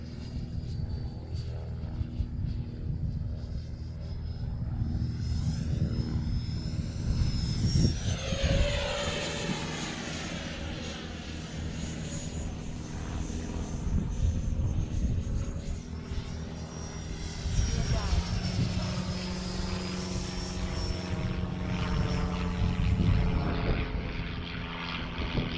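An Eflite F16 Thunderbird RC model jet flying overhead, its whining engine rising and falling as it makes two distinct passes, loud and close, with steady outdoor background and no talking.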